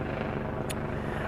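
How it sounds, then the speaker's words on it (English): Friendly helicopter passing overhead at a refugee camp: a steady, dense low rotor drone fills the whole stretch without pause, with one brief higher blip midway. "we got our friendly helicopter about"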